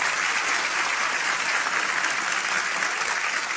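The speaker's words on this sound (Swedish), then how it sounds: "En applåd." Studio audience at a televised quiz show breaking into applause, a dense, even roar of clapping that holds at full strength throughout, with no voices on top.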